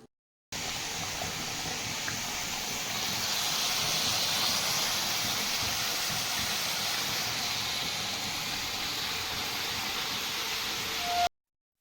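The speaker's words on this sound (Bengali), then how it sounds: "ওদিকে ডালটা আমি প্রেশার কুকারেই বসিয়ে দিয়েছি" A pressure cooker cooking dal releases a long, steady hiss of steam that starts abruptly, stays loud and even for about ten seconds, then cuts off.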